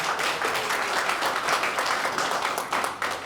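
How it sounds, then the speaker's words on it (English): A conference audience at a live security forum applauds, a dense, sustained clatter of many hands clapping together that fills the room without pause. "I think that deserves a round of applause"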